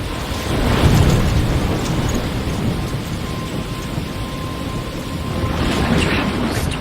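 A tropical storm in the video game Life is Strange, with heavy rain and deep rolling thunder that swell and ease. The roar of rain and wind is loud, dense and continuous, and no voices are heard.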